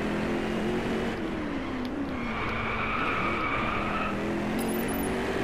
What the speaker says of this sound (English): I just started to drift there.